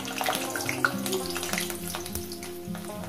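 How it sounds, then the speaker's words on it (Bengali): Potatoes sizzle in hot oil while being fried for a Bengali bata fish curry. A steady, moderately loud frying hiss runs throughout, with a low tonal backing underneath. "আমার তেলটা গরম হয়ে গেছে, আলুগুলো আমি দিয়ে দেবো"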